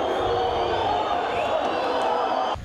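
After CRB's 2-0 home defeat to Ceará at Rei Pelé stadium in a 2012 Série B football match, the crowd keeps up a dense, steady roar of voices that cuts off abruptly at the end.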